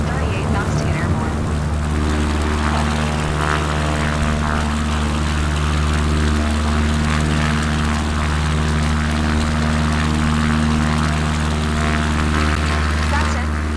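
A small propeller aircraft's engine in the MSFS 2024 flight simulator runs at takeoff power, a loud, steady, even drone that holds for the whole stretch without letup.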